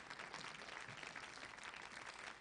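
A conference audience at an education event's opening ceremony gives a sustained round of applause, a faint, even wash of many clapping hands.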